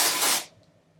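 A short, close hiss of dry texturizing spray aimed at hair roots, one burst of about half a second that cuts off abruptly into quiet.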